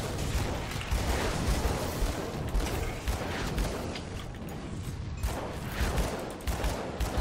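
Steady crackling gunfire from enemies in the video game Grim Dawn fills the whole stretch, dense and continuous with mechanical clatter mixed in, loud and close with no talk over it.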